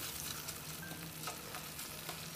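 Tomato thokku frying in oil in a pan, a close, continuous sizzle and crackle with faint scraping as it is stirred, with no one talking.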